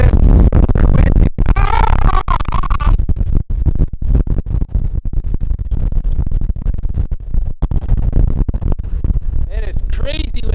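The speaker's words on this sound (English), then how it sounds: "It is crazy windy out here." Strong wind buffets the microphone on the Icelandic coast beside a beached ship, a loud, continuous roaring rumble with gusty bursts that swamps the scene, while a person talks under it.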